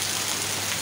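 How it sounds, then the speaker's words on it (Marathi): Heavy rain pours outside in a brief, steady wash of hissing noise that stays even throughout, with no talking. "पाऊस बघ किती वाढत आहे बाहेर"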